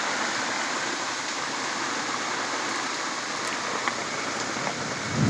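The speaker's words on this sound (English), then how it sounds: "Man, it is storming bad out here." Heavy rainstorm pouring down outside a small survivor shack, a dense, steady roar of rain and wind that stays loud and unbroken throughout, swelling slightly at the very end.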